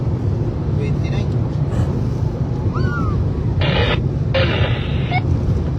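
Loud, steady wind at a cycling time trial in Pampanga buffets the microphone with a constant low roar, and brief voices and rustles cut through now and then.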